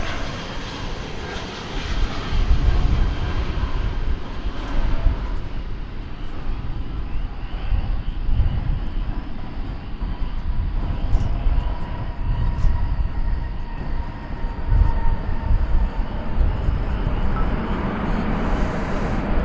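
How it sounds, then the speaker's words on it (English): Delta airliner arriving at DFW Airport from Minneapolis–St. Paul, a continuous heavy engine roar that swells and rumbles at moderate distance across the whole stretch, with no talk. "Delta flight coming in from Minneapolis, St. Paul over here"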